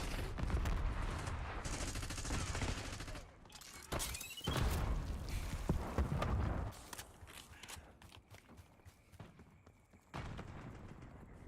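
Gunfire from a Call of Duty match, with the Archangel launcher in use: dense bursts of loud near shots and blasts that ride through most of the stretch, easing toward the end and then picking up again.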